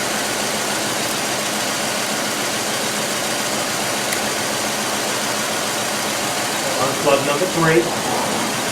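A car engine idles roughly with a cylinder misfire, a steady mechanical hum broken by uneven stumbles that worsen near the end, while someone speaks over it.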